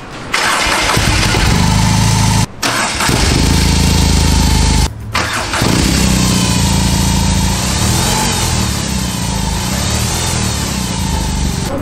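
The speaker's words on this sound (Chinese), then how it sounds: "好，我们现在来把它发动喽。 它这台车记得发动的时候要拉着离合器才发动的。" A BMW R18 motorcycle engine cranks and fires up with the clutch pulled, then settles into a loud, steady running drone close by, with two brief drops in the first five seconds. No talk.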